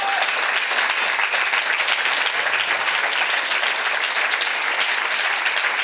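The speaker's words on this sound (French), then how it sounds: "J'aimerais que vous applaudissiez encore une fois tous nos candidats." An audience at a Université de Fribourg MT180 science-talk contest gives the candidates a loud, sustained round of applause: thick, even clapping with no break and no voices over it.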